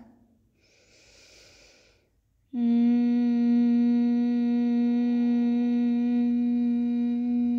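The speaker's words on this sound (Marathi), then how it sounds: "दीर्घ श्वास आत घ्या" A slow, soft deep inhale during a Mind Sound Resonance Technique breathing exercise, faint and airy for about two seconds, then a loud, steady sustained vocal 'a' tone that continues to the end.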